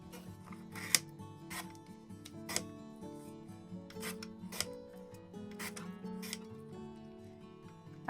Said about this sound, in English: I proceeded to cut them into individual flowers